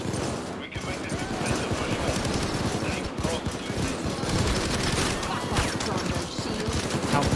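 Video game gunfire in a criminal action shootout rattles almost without pause, dense bursts of automatic shots thick and loud over a noisy backdrop, with voices talking now and then.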